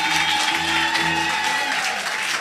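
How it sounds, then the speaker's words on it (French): A congregation of women in a church service applauds in a steady, close burst of clapping that fills the moment, with a voice faintly underneath. "Les femmes, acclamez-vous."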